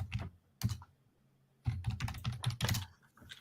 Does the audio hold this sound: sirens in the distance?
no